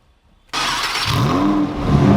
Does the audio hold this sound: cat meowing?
no